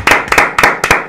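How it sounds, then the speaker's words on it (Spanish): Applause for a teacher: a handful of sharp, close claps in quick bursts, loud and without voices. "¡Aplauso para el maestro!"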